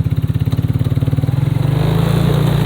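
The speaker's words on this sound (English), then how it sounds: "I'm trying to drive the four-wheeler." A four-wheeler ATV engine runs close by in fresh snow, a steady throbbing idle that quickens and smooths into a higher, even drone.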